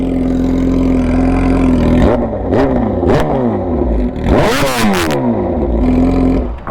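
A tuned Suzuki GSX-R1000R sport bike engine, very loud and close, holds a steady drone and then rises and falls through several sharp revs and gear changes, with no talk.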